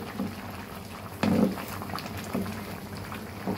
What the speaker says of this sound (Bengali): মাংস একদম টকবগে জাল উঠে গেছে।